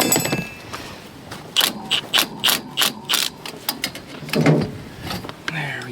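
An oversized impact gun hammers on a small bolt in a garage, firing a run of sharp rattling bursts in quick rhythm, with loose clanks and movement before and after.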